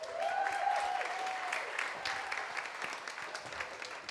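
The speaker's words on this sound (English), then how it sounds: "Let's give a giant round of applause to Jenn Carlisle." Audience applause at a realtor masterclass in Orlando, a steady wash of clapping that stays fairly loud for several seconds. A faint tonal sound rides on top early on.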